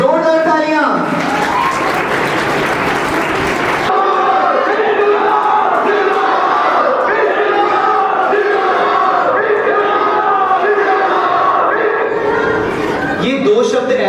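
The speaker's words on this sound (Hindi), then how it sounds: "एक बार इन बच्चों के लिए जोरदार तालियां।" Children at an Independence Day school event get applause: a loud, dense burst of clapping and crowd noise lasting a couple of seconds. Loud, steady, tonal sound that could be voices or music follows.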